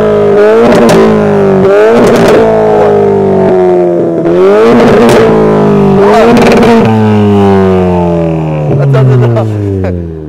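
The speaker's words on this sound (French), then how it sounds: "Gaëtan, tu lui montres un peu ce que ton véhicule est capable de faire" A car engine revs hard during a driving demonstration, with several loud, close rising-and-falling revs in quick succession that leave a sustained engine drone between the peaks.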